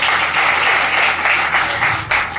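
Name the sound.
audience applause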